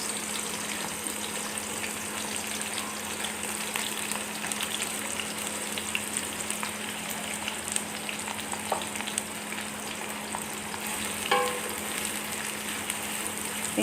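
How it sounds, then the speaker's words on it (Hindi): About four large, finely chopped onions fry in a cup and a half of hot oil for chicken karahi, giving a steady, dense, close sizzle with occasional stirring and no talking. "अब इसमें मैं डालूँगी प्याज बारीक कटे हुए।"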